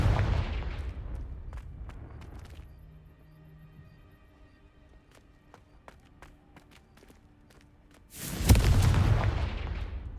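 Confringo fire spell blasts in the video game Hogwarts Legacy, with a loud rumbling burst at the start, faint ticks and tones in between, and a second heavy explosion near the end.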